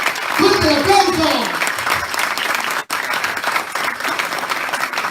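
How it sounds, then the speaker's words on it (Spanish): Steady applause fills a conference hall in Santiago de Chile, a thick wash of clapping heard throughout, with a voice speaking over it at the start and a brief drop in the middle. "Fuerte el aplauso, por favor."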